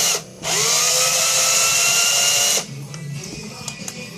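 Electric power drill running in a steady high whine for about two seconds, then cutting off, followed by quieter handling clicks and rustling close by.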